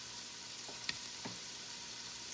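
Oil crackles and sizzles faintly in a pan with ginger garlic paste while mutton pulao is cooked, a quiet steady fry with a couple of small pops and spatula taps, no talking.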